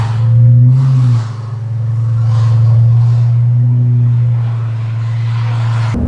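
A Lamborghini with a manual transmission pulls away in first gear, its deep engine droning steadily and close, with the pitch rising briefly early on before it settles into a sustained rumble.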